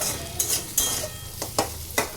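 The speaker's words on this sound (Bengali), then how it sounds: "আলুটা ভাজা হয়ে গেছে" Potatoes fry in a pan with a steady sizzle, broken by several short scraping stirs of a utensil, close and moderately loud with no talking.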